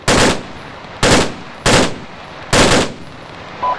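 Four loud, evenly spaced machine gun bursts ring out in Arma 3, each one a sharp broadband blast with a short decaying tail, heard close with no voices.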